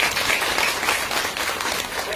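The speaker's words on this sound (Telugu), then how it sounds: "గట్టిగా చప్పట్లు కొట్టి వాళ్ళకి" A crowd of women at a news event at an RTC bus stand in Nandyal claps loudly, dense steady applause throughout.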